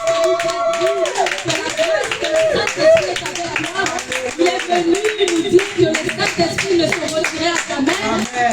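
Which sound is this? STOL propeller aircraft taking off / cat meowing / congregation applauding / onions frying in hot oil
congregation applauding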